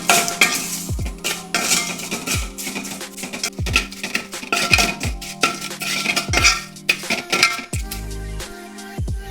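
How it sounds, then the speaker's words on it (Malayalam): Spices with asafoetida and salt are sautéed in a pan for beef pickle, a metal spatula scraping and clanking against the pan in a steady rhythm of strokes about once a second over a light sizzle. "ഇനി നന്നായി ഒന്ന് വഴറ്റിയെടുക്കാം"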